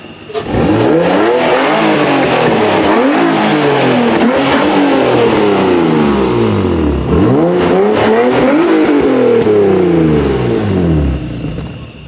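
A Nissan 350Z with Megan test pipes and a Jones resonator revs hard and loud, the engine climbing and falling in repeated sweeping pulls close by, with a brief dip midway before rising again.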